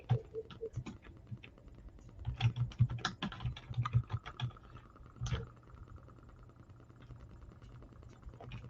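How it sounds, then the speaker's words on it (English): Typing on a computer keyboard, with bursts of quick, uneven key taps that run steadily, then thin out to sparse, faint clicks. No one speaks. "I'm glad y'all can't see me typing"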